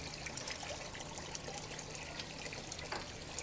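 Hands swish through sushi rice in water while rinsing out the cloudy starch, a soft continuous sloshing and trickling heard close and quiet, with no talk.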